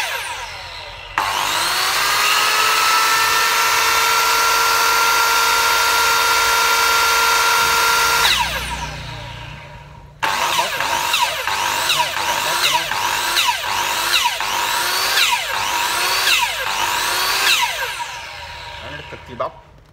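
Loud 100V Japanese electric saw whining steadily, then cutting through material in repeated rhythmic strokes, close and continuous with a brief pause between.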